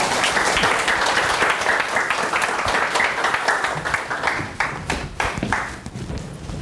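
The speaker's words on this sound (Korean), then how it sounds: "여러분 박수로 환영해 주시죠" Lecture audience in a Korean hall applauds to welcome a guest historian, dense steady clapping from many hands throughout, fairly close and loud, thinning slightly toward the end.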